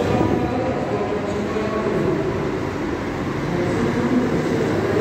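An MF Turismo G8 coach bus rolls in at the Novo Rio bus terminal, a loud continuous engine rumble and rolling drone holding steady throughout.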